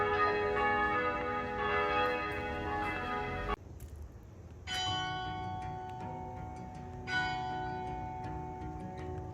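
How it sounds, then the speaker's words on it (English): Church bells ring out in Charleston, several tolls with long humming decay that overlap, a brief pause and then fresh strikes, clear and fairly close in the open air. "Listen to those church bells."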